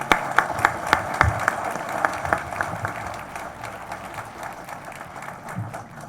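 An audience applauding to welcome a speaker at a hospital tower ribbon-cutting ceremony, a burst of clapping with sharp individual claps that gradually thins and fades over several seconds.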